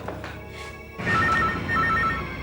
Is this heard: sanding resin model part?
no